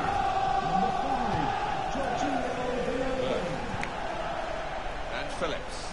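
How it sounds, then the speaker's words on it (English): In a football video game, a stadium crowd roars and chants as a steady backdrop, with a commentator talking over it. "Wow, listen to the crowd."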